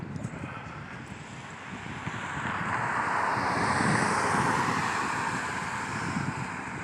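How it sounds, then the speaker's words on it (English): Wind blows outdoors on a muggy morning as a steady, broad rushing roar that buffets the microphone, swelling slightly midway and continuing without a break. "you can probably hear the wind"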